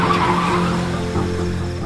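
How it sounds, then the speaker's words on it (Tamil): A car brakes to a sudden stop in a crime drama scene, a loud, sustained tire screech and skid lasting about two seconds, close and unbroken. "வண்டியை நிறுத்து, வண்டியை நிறுத்துறா."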